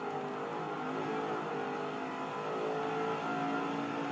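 Race car engine in NASCAR 05 revving and accelerating as the driver gets back on the throttle after a slide into the wall off turn 2, a steady, loud droning roar with rising harmonic tones throughout.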